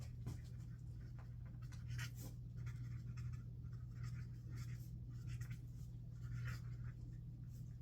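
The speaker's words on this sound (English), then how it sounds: "Okay, so let's write that down." Pen or pencil writing notes by hand on paper, a steady faint scratching with short strokes and pauses over a low constant hum, no voices.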